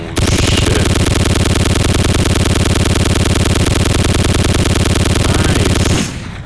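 Modded military machine gun fire in GTA 4 roars as one loud, continuous rapid-fire burst lasting about six seconds before cutting off abruptly, with no talking.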